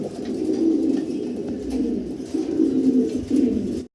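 Pigeons coo in low, rolling phrases, close and steady, with several overlapping calls repeating throughout, as a male courts a receptive female.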